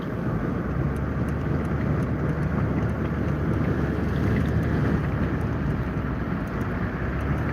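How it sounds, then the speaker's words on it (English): Steady wind roars on a rough bay shore, a dense, constant rush buffeting the microphone without pause for the whole stretch. "It's still pretty windy."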